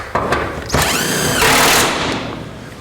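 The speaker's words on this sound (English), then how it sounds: "This is the nut underneath," A power tool whirs up and spins close and loud for about a second, tightening nuts under a 1949 Chevrolet gasser's fuel cell, with softer knocks before and after.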